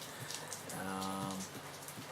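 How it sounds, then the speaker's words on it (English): Steady rain falls throughout, a dense even hiss of drops on a surface that holds at a moderate level for the whole stretch, with a faint low tonal hum rising briefly in the middle and no talking. "and it's raining"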